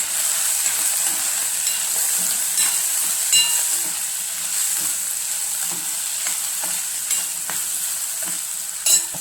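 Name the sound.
stirring turmeric into frying mixture in pan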